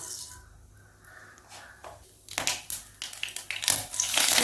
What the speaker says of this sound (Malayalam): വെളിച്ചെണ്ണ ചൂടായിട്ട് വരുമ്പോൾ നമുക്കതിലേക്ക് കടുക് ഇട്ട് കൊടുക്കാം